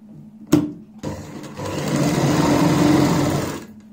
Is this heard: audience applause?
no